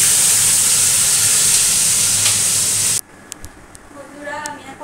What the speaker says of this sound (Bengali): ওইখানে দিয়ে দিচ্ছি জিরে ফোড়ন, আর পটলের সঙ্গে যে আলু দেবো সেই আলুগুলোকে ভেজে নিচ্ছি।